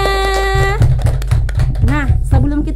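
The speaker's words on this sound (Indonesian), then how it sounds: "Tepuk tangan semuanya" Children at a kindergarten clap their hands in a rhythmic series of claps under loud singing and voices, close and lively.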